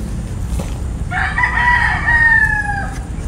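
A single rooster crows loudly and close by, one long drawn-out call rising and falling over a quiet outdoor background.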